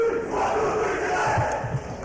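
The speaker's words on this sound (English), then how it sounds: "there's the Chinthes cheer" The Chinthes basketball team chants a loud group cheer in unison just before a boys' championship game in a gym, a steady mass of young voices lasting a couple of seconds.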